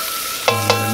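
Frying food in a wok with chili, garlic and ginger is stirred in three quick scrapes over a steady sizzle.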